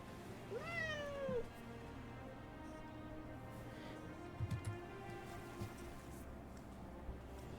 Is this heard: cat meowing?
yes